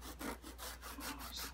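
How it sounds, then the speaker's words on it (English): Sandpaper rubbing wood on the fretboard of a Martin DCPA5 acoustic guitar, a quiet, close, rhythmic scratching of back-and-forth strokes with no talking. "A piece of sandpaper."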